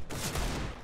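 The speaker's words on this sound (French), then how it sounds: "C'est quoi ces tirs d'AWAP?" A loud, dense burst of gunfire from a Counter-Strike match, filling a brief moment with sharp overlapping shots.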